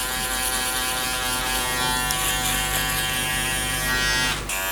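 Andis foil shaver buzzing steadily and close while clearing the bottom of a skin fade, a continuous electric hum that dips briefly near the end.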